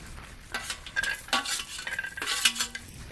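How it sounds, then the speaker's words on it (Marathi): Grated coconut roasts on a hot iron griddle over a wood-fired stove, with soft intermittent scraping and stirring strokes and a faint crackle, fairly quiet and close. "तर खोबरं टाकलेलं आहे तव्यावरती."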